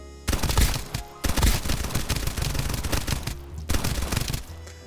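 A Vector submachine gun fires in a video game in loud, rapid bursts, several separate strings of shots with short pauses between them, with no talking.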